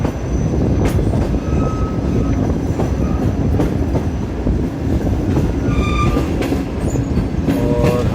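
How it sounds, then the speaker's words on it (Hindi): A passenger train pulls away from platform 1 at Okara Cantt railway station, wheels clattering loudly and steadily on the track, with a brief horn and wheel squeal rising near the end. "ये ट्रेन देके जाने लग गई है platform number 1 Okara cantt railway station"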